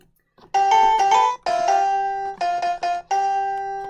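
Toy piano tones from a computer program ring out as short bright chime-like notes in quick clusters, with brief gaps between phrases, clear and close.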